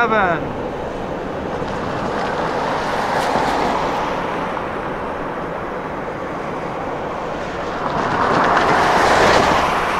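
CSX freight train Q367 heading west from Selkirk, New York toward Chicago, heard from long range at a rail crossing: a steady, distant rolling rumble of rail cars that swells louder near the end, with no talk.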